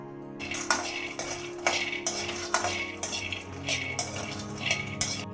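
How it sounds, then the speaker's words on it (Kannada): Peanuts are stirred while roasting in a pan, with a steady rhythm of dry metallic scrapes and rattles roughly every half second and no talking. "ನಾನು ಕಡಲೆಕಾಯಿ ಬೀಜನ ಕೈ ಬಿಡದೆ ನಾನು ಹುರಿದ್ಕೊತಾ ಇದ್ದೀನಿ"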